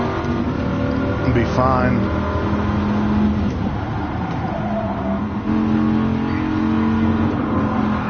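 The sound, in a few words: stock car engine revving on track, Gran Turismo Sport video game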